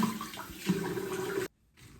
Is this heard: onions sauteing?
no